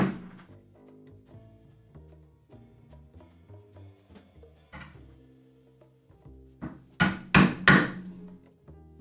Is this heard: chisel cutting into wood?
yes